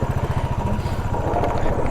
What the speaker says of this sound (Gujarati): જોઈએ આપણી બાઇક ક્યાં સુધી જાય